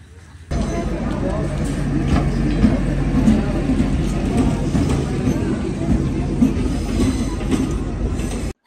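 A night passenger train arrives at a station on the Jhapa-to-Kolkata route, its steady rumble and rolling wheels loud and close, with a low hum throughout and voices talking underneath.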